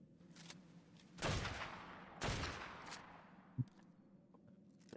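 Shotgun blasts in the game Ark, two loud close booms about a second apart followed by a fainter shot and a sharp crack, over low background game noise.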